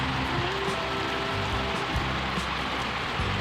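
The first monsoon rain of the season falls steadily, a dense, even hiss of drops on surfaces all around, continuous and fairly loud with no voices.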